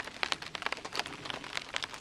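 Rain falls at a wilderness campsite, heard as irregular close patters and drips striking a surface, fairly light and uneven over a quiet background with no one speaking.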